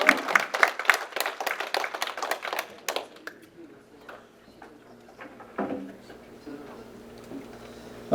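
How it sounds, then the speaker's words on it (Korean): An audience at a memorial ceremony claps for a California state senate candidate, a loud burst of applause lasting about three seconds before fading into quiet room murmur with a few scattered claps. "우리 박수 잘합니다."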